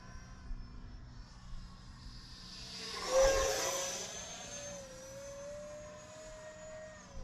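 Small Arrows RC Viper 50mm EDF model jet flying overhead, its whining electric ducted fan rising to a loud pass near the middle and then trailing off into a steady distant whine.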